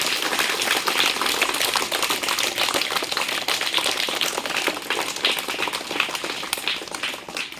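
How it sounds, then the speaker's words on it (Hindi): Enthusiastic applause for a Class 1 student at a school prize-giving and results day, dense, steady clapping from many hands that continues loudly throughout without voices. "तुलसी कुमारी, जोरदार ताली से स्वागत कीजिए।"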